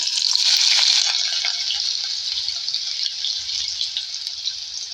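A medium-sized onion frying in oil for a bean and okra curry: a steady, bright sizzle, loudest at the start and settling into a constant crackling hiss, close up with no talking.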